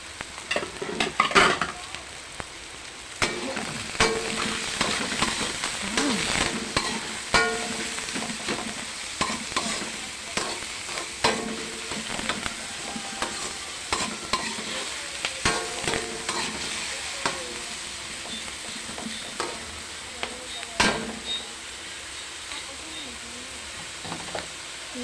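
Chicken liver sizzling in a hot pan while a utensil stirs and scrapes it, with steady frying hiss and irregular clinks and scrapes, close and continuous.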